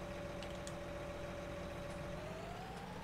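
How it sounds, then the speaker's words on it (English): A tractor engine runs with a continuous, steady droning rumble and a faint tonal whine that rises slightly near the end, moderately distant on a farm. "I hear my tractor moving."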